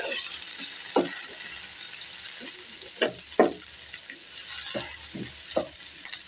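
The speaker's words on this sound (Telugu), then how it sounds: "వీటిని కూడా చక్కగా అటు ఇటు తిప్పుకుంటూ ఫ్రై చేసుకోవాలి." Sweet corn kernels fry in a pan with turmeric, a steady soft sizzle broken by several sharp scrapes and clicks of a spoon stirring against the pan.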